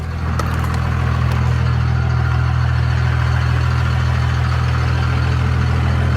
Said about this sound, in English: For sure you can hear the turbo a lot better. I can hear it just idling now.